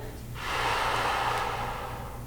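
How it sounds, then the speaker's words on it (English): A long, steady breath pushed out through the mouth during a seated resistance band exercise, starting after a brief pause and holding a broad airy hiss for about two seconds, close and fairly loud. "Breathing out"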